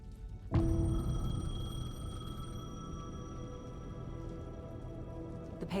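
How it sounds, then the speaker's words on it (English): In the video game Alan Wake 2, a payphone rings out after a sudden thump, leaving a sustained, slowly fading metallic tone over dim, rain-like ambience, with no speech. "The payphone was ringing."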